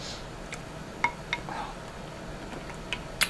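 A big spoon scoops hot navy beans out of a cooking pot with pig tails and potatoes. Faint, close metallic clinks and taps are scattered in a sparse, irregular rhythm over quiet room tone.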